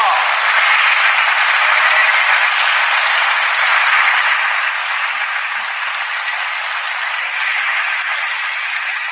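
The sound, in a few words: applause for a donor on a livestream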